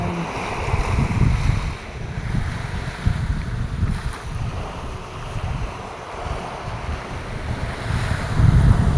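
Sea waves wash over an island resort beach in steady, rolling surges, with a low rumbling roar and wind buffeting the microphone throughout, close and without speech.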